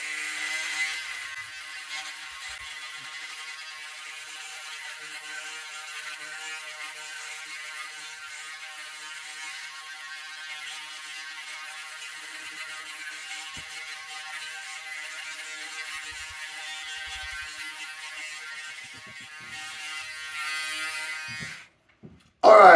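A Braun 7120s electric shaver runs in turbo mode while shaving, giving a steady, close, buzzing hum that holds evenly for about twenty seconds before cutting off, with a brief clatter at the end.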